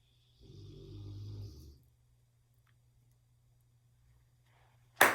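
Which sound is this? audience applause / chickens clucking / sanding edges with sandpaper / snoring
snoring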